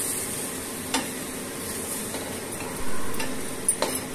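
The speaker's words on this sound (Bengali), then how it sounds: "এখন গ্যাসের ফ্লেমটা লো করে 30 থেকে 40 সেকেন্ড একটু নাড়াচাড়া করে নিব।" Ginger and green chili paste stirred and fried in a pan over a low gas flame, a steady close sizzle with occasional scraping clicks of a spoon against the pan.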